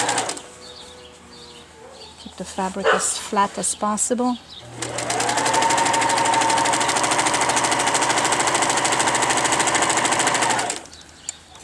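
A Singer sewing machine with a tension problem stitches fabric for a wicker chair slip cover, running loud and steady for several seconds after a person speaks nearby, then stopping abruptly.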